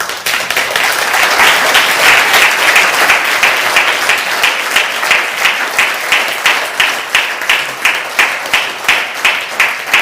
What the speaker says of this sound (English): A round of applause to both of them.